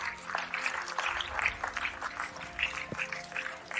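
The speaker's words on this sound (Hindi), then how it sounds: "एक जोरदार तालियां होनी चाहिए।" An audience at an indoor wellness-products training event claps to welcome a speaker on stage. The applause comes as a dense patter of many hands that stays fairly faint and distant throughout.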